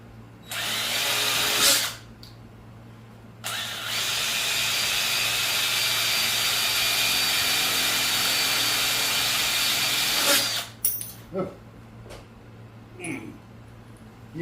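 A power drill drives screws through washers in two long sustained bursts, loud and close, the motor whirring steadily before stopping, with short handling clicks and brief taps afterward.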